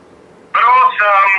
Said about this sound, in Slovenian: Pokličemo Lada Bizovičarja po telefonu.